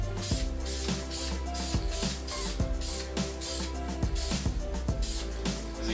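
A light coat of spray paint is applied to alloy wheels in short, repeated hissing bursts with a steady rhythm, close and fairly loud, with no talking.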